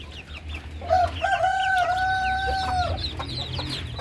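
Backyard chickens, young Brahma about six weeks old alongside native birds, cluck and call repeatedly, with one long sustained crowing call standing out over steady outdoor background noise.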